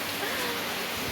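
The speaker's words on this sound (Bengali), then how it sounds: "খাওয়া দাওয়া করে এলাম আর এমনিতেই ঝমঝমিয়ে বৃষ্টি।" Heavy rain pours steadily outside a balcony, a dense, even wash of noise with no breaks that holds close and moderately loud for the whole moment.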